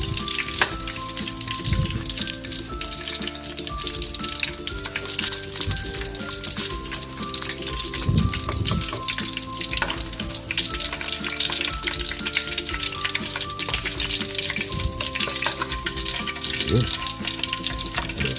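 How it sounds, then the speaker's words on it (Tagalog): Chicken fries in hot oil in a pan, a steady sizzling crackle that runs the whole time beneath background music, with a brief word spoken near the start. "Tignan natin kung luto na yung ating fried chicken."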